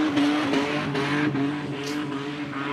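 Car doing a tyre-smoking burnout at a burnout event, a loud continuous engine drone with rhythmic pulsing surges and tyre squeal, heard from a moderate distance.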